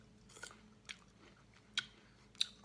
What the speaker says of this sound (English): It's not actually too hard to chew.